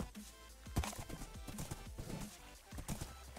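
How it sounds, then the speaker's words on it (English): Horse hooves gallop in the Minecraft video game, a fast run of sharp, close clip-clop beats repeating steadily throughout. "Oh, that's a nice horse, it's fast."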